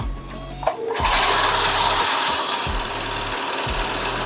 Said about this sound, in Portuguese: Baixei o calcador, comecei a costurar.